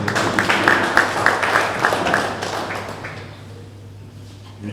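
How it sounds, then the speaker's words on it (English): Audience applause at an evening cricket T10 tournament launch and draw, a burst of many hands clapping that thins out and fades to near quiet after about three seconds. "Can you give him a round of applause?"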